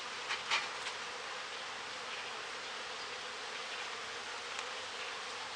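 Honey bees buzz steadily during a five-frame nuc split, a dense, continuous hum that stays close and even for the whole stretch, with a few louder passes near the start and no talk.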